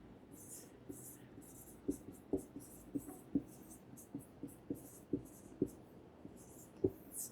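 Pen or marker strokes scratching across a surface while a maths number problem is worked out, a steady run of short taps and scrapes, close and fairly quiet, with no talking.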